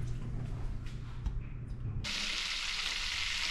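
A sheepshead fillet goes into butter in a hot pan, a low rumble giving way partway through to a loud, steady hissing sizzle that carries on to the end.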